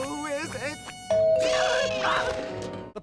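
A doorbell in the SpongeBob cartoon rings with a sustained bright electronic chime, coming in after and under cartoon voices.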